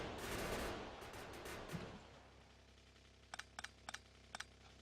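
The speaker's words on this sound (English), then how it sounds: "Our trusty turrets will protect us as we run into them." Gun turrets firing at biters in Factorio: a dense burst of rapid fire at the start fades out, then several short, sharp, evenly spaced shots crackle later, fairly quiet and with no voices.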